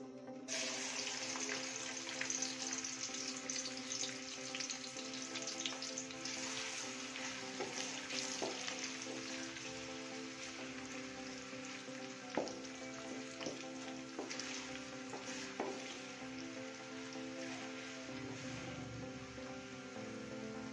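Onions frying in hot ghee give a steady, dense sizzle that runs throughout, quiet and even with occasional small pops and stirring taps, and no talk.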